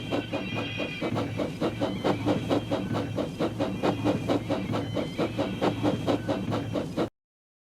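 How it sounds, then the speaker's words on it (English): Thomas the Tank Engine, a steam tank engine, puffs hard while pushing another engine stuck in a tunnel, giving a fast, even train of loud chuffs with a faint whistling tone early on. "Thomas pushed and puffed and pushed as hard as ever he could, but still Henry stayed in the tunnel"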